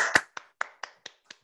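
A few people on a video call clap to thank a speaker after a talk: about six or seven sparse, sharp claps spaced roughly evenly, close and fairly quiet, with no talking.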